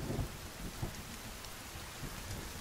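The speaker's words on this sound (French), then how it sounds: "il pleut, ça m'a enlevé ma peinture" Steady rainfall in the survival video game The Forest, a dense, even hiss of rain with faint low rumbles, continuous and without speech.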